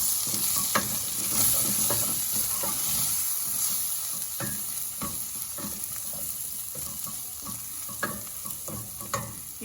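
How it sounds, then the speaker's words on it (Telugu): Chilli powder and coriander powder frying in oil in a pan for a mushroom fry, a steady close sizzle broken by the sharp scrape and tap of a spoon. "ఇది వేగనిద్దాము."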